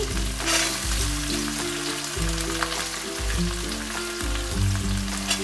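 Onions fry in hot oil in a pan with a loud, continuous sizzle and crackle, close up, with occasional stirring scrapes and no speech.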